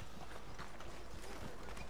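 Horse hooves clip-clopping in the Red Dead Redemption 2 video game, a quiet, steady rhythm of hoofbeats over a dense background of game ambience.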